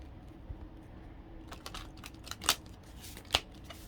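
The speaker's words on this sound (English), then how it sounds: "Oh, they want me to do another big shuffle." Tarot cards being shuffled by hand give soft riffling and a few sharp snapping flicks, quiet overall, with the louder crisp bursts about halfway through and near the end.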